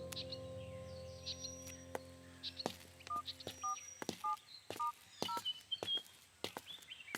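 Short paired dialing tones beep in a quick irregular series, mixed with clicks and handling noise over a steady low hum, with faint chirps in the background.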